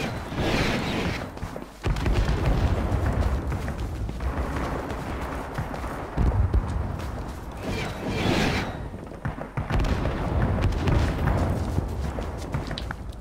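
Heavy explosions and artillery fire in the Vietnam War shooter Rising Storm 2: Vietnam during street fighting in Hue City, loud rumbling booms and blasts rolling one after another with dense low-frequency crashes and debris.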